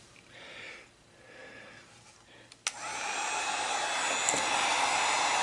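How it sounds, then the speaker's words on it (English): A heat gun set on low blows hot air over heat-shrink tubing while a Ryobi 12-volt battery charger is being fixed. It starts with a softer airflow that swells and fades, then after a click comes a loud, steady, close-up roar of blowing air. "I'm not sure how loud this is going to be using my heat gun"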